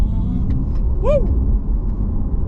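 An Audi e-tron GT electric car drives along, giving a close, low road rumble with a brief rising and falling whine.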